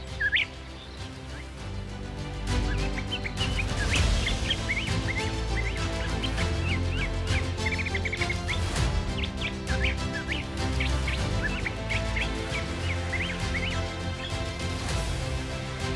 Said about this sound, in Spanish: los sonidos de los pájaros y el susurro de la hierba reemplazan la tensión anterior.